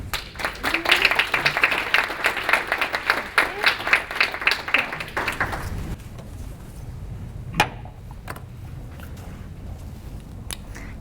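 An audience claps to welcome a speaker to a science of happiness alumni seminar, steady applause for about six seconds that then dies away into quiet room noise with a few faint knocks.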